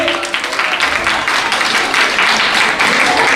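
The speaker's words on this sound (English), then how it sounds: "a big applause to all of them" Applause from an audience at a Women's Day celebration in Muscat, a dense, steady wash of clapping that fills the room for a few seconds with some voices mixed in.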